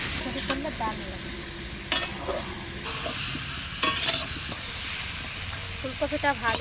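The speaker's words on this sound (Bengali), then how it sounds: "ফুলকপিটা ভাজা হয়ে গেছে" Cauliflower florets fry in oil in a pan for a cauliflower-potato curry, giving a soft continuous sizzle broken by occasional spatula scrapes and stirring clatter, fairly quiet.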